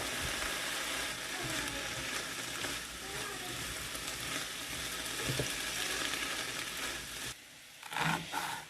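Meat fries in a pan in a big-batch family cooking session, sending up a loud, continuous sizzle for about seven seconds. The sizzle then drops away into a brief clatter of handling near the end.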